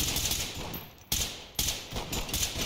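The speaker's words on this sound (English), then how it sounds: "These bullets are going straight through that in real life, dude." Gunfire in the tactical shooter game Ready or Not, with bullets going through drywall: a few sharp, loud shots at separated moments over a steady background hum, with no voices.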